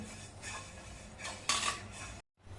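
Fenugreek seeds dry-roasting in a pan without ghee, stirred with a metal spoon: steady scraping and clinking against the pan, a louder burst of scraping partway through, then a short pause before the stirring resumes.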